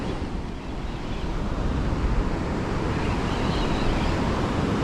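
Ocean surf washing onto a flat, open beach with no gutters or structure, a steady broadband wash of breaking waves close by, rolling on without pause under some wind buffeting.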